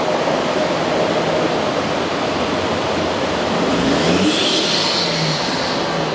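A Land Rover Defender Td5 diesel engine fitted with a VNT turbo, surging and short on power, roars as a steady, loud, broadband rush with little variation throughout.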